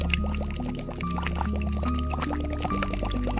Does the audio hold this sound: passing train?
no